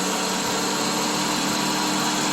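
A 2001 Subaru Legacy engine idles roughly after an upper hose replacement, giving a steady close-up hum with a faintly uneven, shaky texture and no voices.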